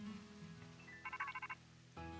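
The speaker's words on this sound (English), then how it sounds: "I wonder who could be talking to us over the phone." A phone ringing in the video game Pokemon Scarlet, a short burst of rapid warbling electronic ring pulses in the middle of soft game music, brief and moderately loud, with no voices.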